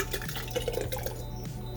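Thick homemade spaghetti sauce pours from a measuring cup into wide-mouth canning jars, giving a close, steady wet trickle with faint drips over a low kitchen hum.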